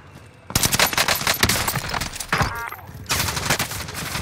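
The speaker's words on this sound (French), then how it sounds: "On me tire dessus!" Gunfire in a Call of Duty Warzone match: loud, rapid bursts of automatic fire go on almost without a break, close up, with a short pause before they start again.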